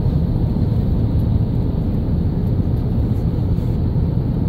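The steady, loud cabin drone of a Delta Airlines airliner in flight from Cape Town to Atlanta, a constant broadband roar that never changes over the few seconds, with no voices.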